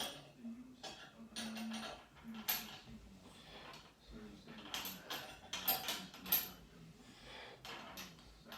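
Amazon Yaheetee pole-dancing pole being twisted and tightened, giving scattered creaks, clicks and metallic scrapes in irregular bursts, close and fairly quiet.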